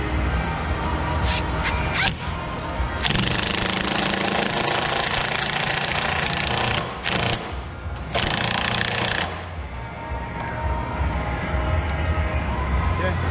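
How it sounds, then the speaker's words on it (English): A power tool drives bolts on a new floating dock for a duck hunting blind, a loud steady mechanical rattle running nearly throughout with brief pauses and restarts, people talking over it. "Let's run these guys in."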